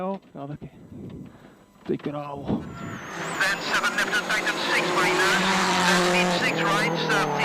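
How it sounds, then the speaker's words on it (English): A 2007 WRC rally car clips the bank during a stage and lifts onto two wheels, its engine roaring loud and close with tire scrabble and squeal, after a commentator's voice. "Chris Atkinson was also in trouble, clipping the bank here and up on 2 wheels"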